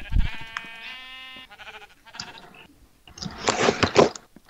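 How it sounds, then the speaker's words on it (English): Several bleats from sheep in the Minecraft video game, loud and close, the last ones bursting out harsh and wavering after brief gaps. "Sheep, stop mocking me!"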